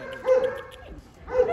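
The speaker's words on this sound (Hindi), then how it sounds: "बहुत भौंक रहे हैं यार।" Dogs in a kennel barking in two loud bursts separated by a brief lull, with yelping, close-up tones.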